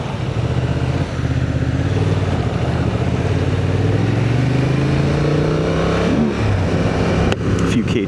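Off-road motorcycle engine droning loud and close on a group trail ride, pitch climbing and falling as the rider works through the gears, with a rougher burst near the end.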